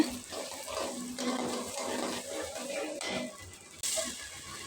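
Water is poured into a pan of frying ginger-garlic paste, giving a steady rushing, splashing hiss that runs for several seconds, close and fairly loud, with no talking.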